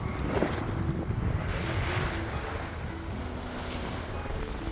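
A Beneteau sailboat under sail in decent wind on a close reach near the coast, with a steady wash of water along the hull and wind rushing past, continuous and fairly close throughout.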